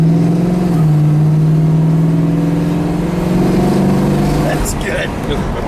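A 1968 Plymouth GTX with a 426 Hemi V8 drones loudly and steadily from inside the car, its engine note climbing in pitch as it accelerates, then dropping off near the end.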